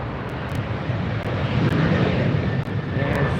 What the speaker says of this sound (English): pretty soon that A380 is going to be departing right past us